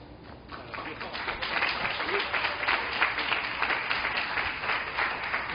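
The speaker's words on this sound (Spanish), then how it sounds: "se aplaude para el Señor" Church congregation at a live evening service applauding for the Lord, steady rapid clapping from many hands that swells after the first half second and holds at full strength throughout.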